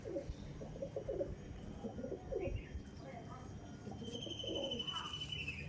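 Tournament racing pigeons of Andhra and Punjabi breeds coo in a loft, a soft repeated burbling close by under a low steady background, with a few chirps mixed in.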